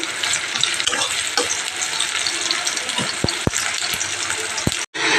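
Onion and spice paste fry in a pan with a continuous loud sizzle, broken by several sharp clicks of a utensil against the pan and a brief dropout near the end.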